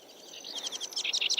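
A small bird chirps in a quick, rising series of bright tweets, fairly close and growing louder over a second or so, with no talk over it.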